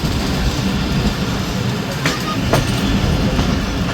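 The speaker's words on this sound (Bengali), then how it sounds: "ট্রেনটি প্রবেশ করলো তার প্রথম যাত্রা বিরতি স্টেশন নাচল রেলওয়ে স্টেশনে" A commuter train running on rails through rural countryside, a loud continuous rumble with rhythmic clickety-clack of wheels over track joints, heard close and alone.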